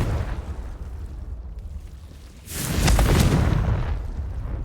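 Confringo fire spell in Hogwarts Legacy bursting into a single heavy, booming explosion after a quieter stretch, its roar swelling and then slowly tailing off.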